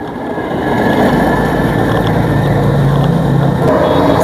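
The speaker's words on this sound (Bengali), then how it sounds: "স্ক্যানিয়ার ইঞ্জিন," The Scania engine of a multi-axle National Travels coach runs with a steady, loud, close rumble that swells slightly in the first second and then holds even.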